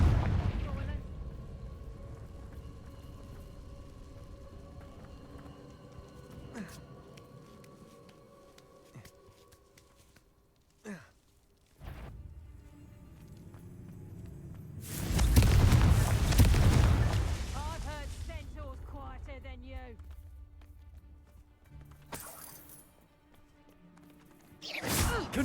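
Confringo blasting spells going off in the video game Hogwarts Legacy: one loud, rumbling explosion in the middle with a long fading roar, plus a few sharper cracks earlier and at the end, over quiet ambience.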